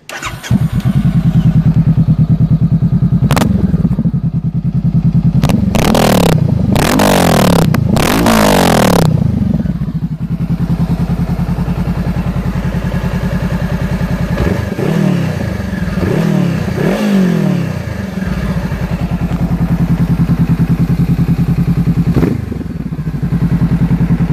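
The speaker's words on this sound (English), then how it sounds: "We can bust it over real quick and be able to hear the exhaust real fast." A 2018 Honda CBR500R motorcycle engine idles loudly through its exhaust, then revs sharply several times in quick bursts before settling back to a rumbling idle, close by.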